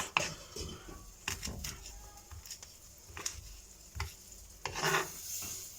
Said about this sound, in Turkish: sarımsak şöyle bıçak, bıçak ucuyla çöktürüyoruz.